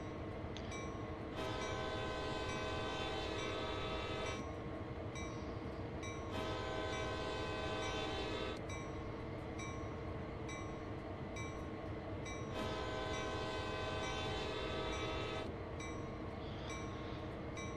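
A train sounds its horn again and again at road crossings, long loud blasts with short gaps between them, over a constant rumble of rolling rail cars.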